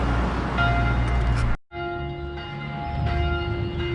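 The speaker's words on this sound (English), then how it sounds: "not far from the Hindu temple, you can hear the bells ring" Temple bells ring near a Hindu temple in Kompong Kertel, steady sustained tones with a brief drop in the middle, heard loud and close amid faint street background.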